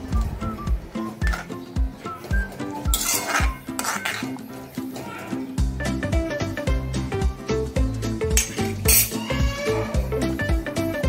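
Soybean curry stirred in a metal pot with a spoon, bringing repeated scraping and clinking strokes in an uneven rhythm, close and clear, with a faint sizzle under it and no talking.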